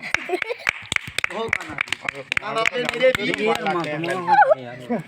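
Sharp hand claps ring out at a Bundeli village street show where a boy is turned into a snake, scattered and irregular beneath continuous nearby talking and a chanting voice.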